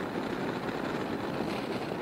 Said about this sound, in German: Ja, der Wind ist natürlich räudig heute.